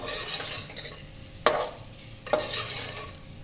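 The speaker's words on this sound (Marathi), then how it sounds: "आता हे छान परतून झालेत मसाले" Spices for egg biryani are stir-fried in a pan, a soft sizzle broken by two distinct scraping strokes of a spoon against the metal, close up and unaccompanied by speech.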